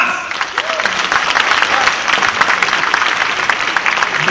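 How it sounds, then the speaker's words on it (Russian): An audience at a Russian-language stage event breaks into loud, sustained applause, dense clapping from a large crowd filling the room without pause for over four seconds. "Ваши аплодисменты, друзья."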